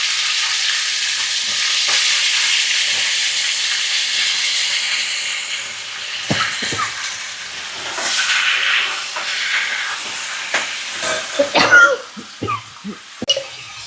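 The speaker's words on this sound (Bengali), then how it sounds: "সর্ষের তেল দিয়ে এবারে চিকেনটা একটু ভেজে নেওয়া হবে" Chicken frying in mustard oil for a homemade curry, a bright sizzle with stirring scrapes and knocks of a spoon in the pan, growing busier and choppier in the later seconds.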